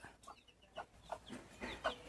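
A hen clucking softly in a series of short, repeated calls, faint and fairly close, with no voices.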